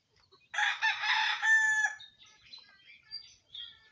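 A young stag rooster crows once nearby, a loud strained call with a rising then breaking tail, followed by a few softer clucks and chirps against a quiet background.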